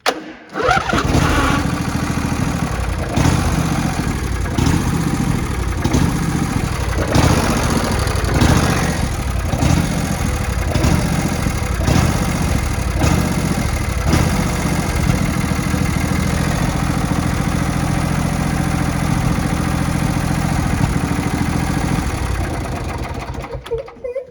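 A Craftsman lawn tractor engine starts and runs, loud and close, with a steady rough chugging idle that continues throughout.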